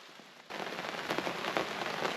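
Light rain pattering on a tarp at a lakeside campsite in the Boundary Waters, starting abruptly after a brief quiet moment, then a close, continuous spattering with scattered sharper drops.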